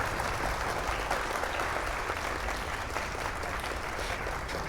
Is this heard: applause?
yes